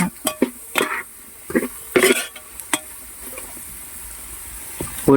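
Tomatoes being sautéed in a pan: a spoon scrapes and clatters against the metal in short, irregular bursts over a faint background sizzle, then a quieter stretch and a final clank.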